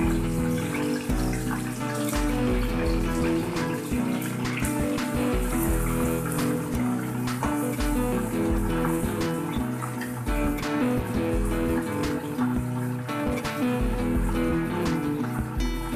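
Marinated chicken pieces deep-frying in hot oil, four pieces in the pan: a loud, continuous sizzle and bubbling with sharp crackles and pops scattered throughout, close to the microphone.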